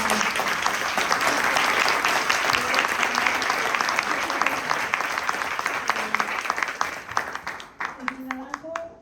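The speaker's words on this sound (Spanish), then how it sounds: "pido un gran aplauso para ella antes." Sustained audience applause for Jimena at a book presentation, dense crowd clapping filling the room for several seconds before thinning out, with voices rising faintly at the end.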